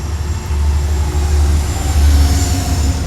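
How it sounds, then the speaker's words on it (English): A train passes nearby as a steady, loud low rumble with a faint high whine, holding through the whole moment without voices. "1 second, there's a train passing."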